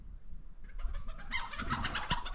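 A rooster clucks in short, bright bursts over a low background rumble, close by and moderately loud, with no talking.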